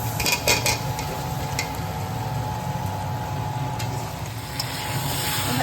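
Boiled potatoes tumble into a pan of spice mixture for a potato dum. A brief cluster of clattering knocks comes first, then a steady low sizzle and soft scraping in the pan.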